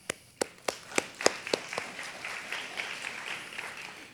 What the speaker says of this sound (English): please, one more time, give them a round of applause